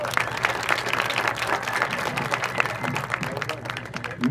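Applause from an audience at an iftar gathering held by a mosque association, continuous uneven clapping with crowd murmur running steadily from start to finish.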